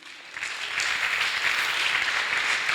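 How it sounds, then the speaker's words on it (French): A church congregation breaks into loud, sustained applause for Jesus during a sermon, dense clapping that swells quickly and holds steady throughout. "On acclame Seigneur Jésus."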